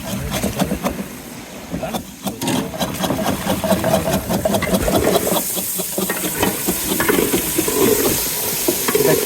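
Prawn korma cooking in a pan on a Bay of Bengal fishing boat, with stirring scrapes and a hissing sizzle close up over a running engine hum, and a few muffled voices in the background.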